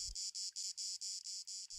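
Cicadas in summer countryside buzz in a fast, pulsing rhythm of evenly spaced high-pitched bursts, close and steady, with no voices.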